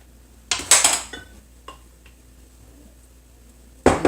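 A spatula scrapes and spreads mashed potato across a baking dish for a chili shepherd's pie, with a few clattering scrapes close by, a short pause, then another scrape at the end.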